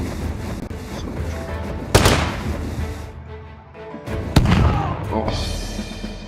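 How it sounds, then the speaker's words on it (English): Gunfire and explosive booms in the battle game TABS, with two loud sharp blasts standing out over a continuous rumble of distant shots and thuds. "Dodging all these shots."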